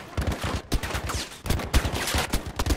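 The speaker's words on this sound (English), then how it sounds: "One hand hip fire." One-handed hip-fire gunshots in a video game ring out as rapid, sharp bursts of automatic fire, loud and close, with short pauses between volleys.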